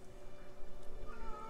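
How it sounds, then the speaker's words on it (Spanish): Punky the cat meowing, a faint drawn-out tonal cry over low background hum. "Punky está maullando"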